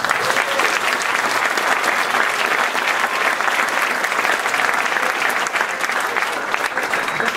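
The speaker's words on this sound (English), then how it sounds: "give him a round of applause" Audience applause after a speaker asks the crowd to thank someone at an event, steady dense clapping filling the room for the full stretch at even loudness.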